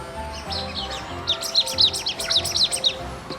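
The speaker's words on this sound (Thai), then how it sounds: "เสียงนกด้วย" Bright toy bird tweets chirp in a quick repeating pattern, close by, with a soft low hum underneath.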